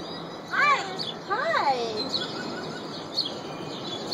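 A pet parrot gives short, rising and falling chirpy calls in two or three quick bursts, close by and moderately loud, with faint background noise.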